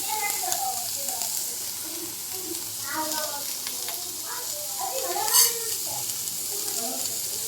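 Chana dal and urad dal fry in oil for a chutney made with raw mango, giving a steady, soft sizzle with faint stirring scrapes throughout, moderately close and without talk.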